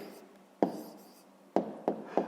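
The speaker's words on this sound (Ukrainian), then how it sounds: "Ну що ж, записуємо тоді відповідь." A pen writes a math answer by hand, with faint, close scratching broken by four sharp taps of the tip on paper.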